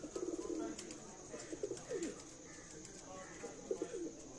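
Pigeons coo on a rooftop loft in Chak Shahzad, several soft, throaty coos in short bursts, fairly faint, over a quiet outdoor hiss.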